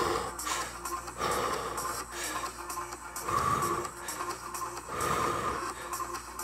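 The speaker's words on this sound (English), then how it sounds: "So breathe out, breathe in, breathe out," Rhythmic breathing in and out during an abdominal workout on a foam roller, audible exhales and inhales repeating roughly every second or two, close and moderately loud with faint shuffling.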